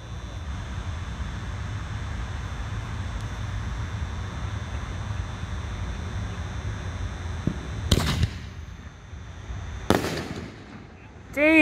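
A Shogun Fixing the Fire firework ball shell launches and bursts outdoors with two sharp booming reports and a crackling tail, loud and distant over a low steady background hum.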